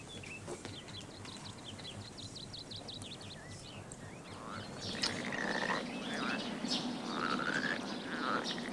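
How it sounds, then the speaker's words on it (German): Frogs croak in a busy outdoor chorus, overlapping calls building louder after a few seconds, with occasional birdsong mixed in. "Hörst du die Frösche quaken?"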